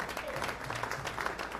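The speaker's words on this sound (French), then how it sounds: "on peut l'applaudir très fort." Audience applause at a theatre festival event in honour of Papa Marcelin, a steady wash of clapping from a crowd, moderately loud and continuous throughout.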